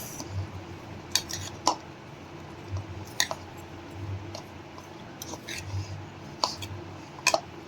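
Peanut chaat with fresh coriander is mixed in a bowl with a spoon, giving scattered sharp metallic clinks and soft squishing scrapes at an uneven pace, close and fairly quiet.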